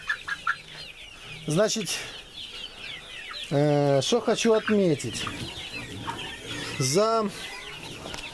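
Clucking from a large rooster and hens of the Dominant breed, about two months old, in a poultry pen, heard as several loud nearby bursts with someone talking between them.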